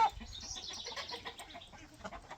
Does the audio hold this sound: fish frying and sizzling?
no